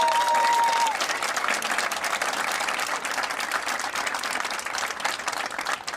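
Sustained audience applause at a high school band parent performance, honoring volunteer coordinator Tana Myers; dense, steady clapping from a large crowd lasting throughout, with a brief tone at the start.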